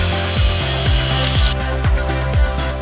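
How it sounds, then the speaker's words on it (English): A plunge saw cuts edge pieces of wood indoors, a loud, close, whining motor with a rough cutting rasp that shifts in pitch partway through, with no voices. "I'm using a plunge saw instead."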